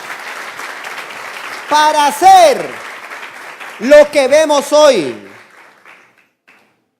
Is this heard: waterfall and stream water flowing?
no